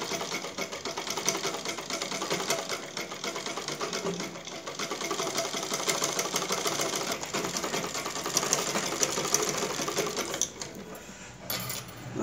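A sewing machine stitching piping onto a blouse neck, running continuously with a fast, even mechanical whir and rattle throughout, close and fairly loud.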